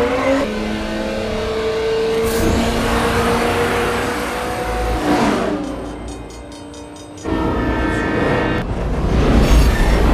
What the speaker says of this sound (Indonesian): Di akhir cerita, Connor dan Dom beradu kecepatan.